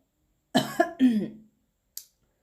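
A person clears their throat a few times in quick gruff bursts, followed by a brief faint click, in an otherwise quiet room.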